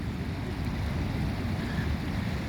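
Waves break on a Cornish beach in a steady, broad wash of surf, heard close and continuous with wind noise mixed in and no talking.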